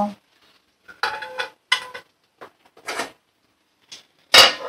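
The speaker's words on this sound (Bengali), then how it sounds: "তো লঙ্কাগুলো দিয়ে আমি উপর থেকে একটু ঢাকা দিয়ে রেখে দেব, কিছুক্ষণ এইভাবে রান্নাটা হতে দেব।" A metal lid set over a cooking pan of dried prawn curry with green chillies clatters in several sharp close clanks and scrapes, separated by short silences.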